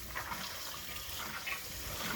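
Tap water runs steadily while chickpeas are rinsed for hummus, a brief continuous splashing rush at moderate level, with no talk.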